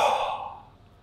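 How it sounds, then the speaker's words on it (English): A person breathes out onto a CO2 sensor in a home office: one close, breathy exhale that fades away within about half a second. "if you breathe on it,"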